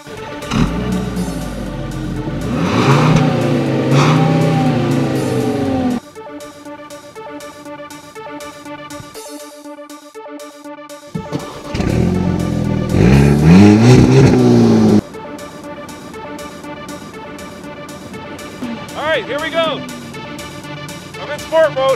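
A 2013 Volkswagen Beetle and Eos convertible accelerate from a standstill on snow, loud engines revving and climbing through gears in bursts, with people talking between runs.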